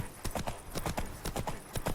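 Horse hooves clip-clop steadily in a video game, a brisk regular rhythm of sharp knocks over a continuous background bed, fairly close and prominent.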